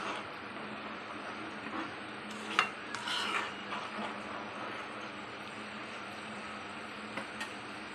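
A spoon stirs and scrapes through taro-root tamarind curry in a pot after coriander powder goes in, soft clinking and scraping under a steady background hum, with a couple of brighter metallic knocks.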